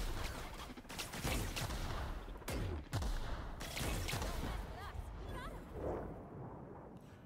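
Repeated grenade launcher blasts and gunfire in a video game, a run of loud sharp reports with crackling impacts, under constant talk and game noise.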